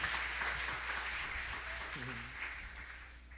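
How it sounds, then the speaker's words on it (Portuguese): A church congregation claps during a celebration service, a steady wash of applause with voices talking over it. "Uma salva de palmas para eles, irmãos."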